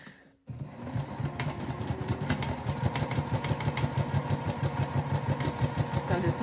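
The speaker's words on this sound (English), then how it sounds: "We're going to go ahead and sew along this top edge" A sewing machine stitches along the top edge of a vinyl zipper pouch, a steady rapid mechanical chatter held close and even for several seconds after a brief pause at the start.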